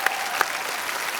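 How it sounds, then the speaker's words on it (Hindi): Brief burst of studio audience applause on a comedy talk show, dense clapping with a couple of sharp claps standing out over roughly a second. "जोरदार तालियां उसके लिए।"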